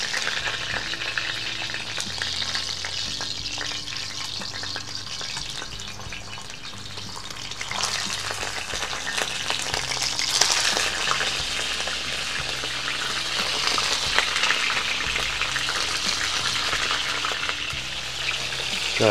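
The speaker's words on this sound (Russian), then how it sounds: "Начинаем обжаривать колбаски. Выкладываем. Аккуратно масло брызгает." Sausages frying in oil in a pan over a campfire make a dense, continuous sizzle and crackle with spitting grease, growing louder partway through, close and steady, with no talking.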